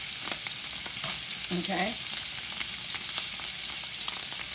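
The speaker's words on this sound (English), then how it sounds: "Once I sear it on one side, I'm going to go ahead and flip it on the other side" Lamb chops searing in a hot pan, a steady bright sizzle with crackling pops throughout, a short spoken word in the middle.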